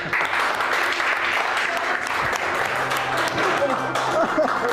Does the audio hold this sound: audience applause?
yes